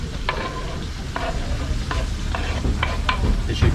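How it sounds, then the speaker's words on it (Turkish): Steady sizzling of horse mackerel frying in a hot pan, with periodic scraping and stirring sounds, close and fairly loud, no voices. "istavritleri kızarttık"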